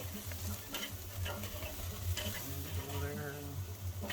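Meat sears on a farm grill over open flame, a continuous close sizzle and crackle with a low hum beneath it, lasting the whole stretch without speech.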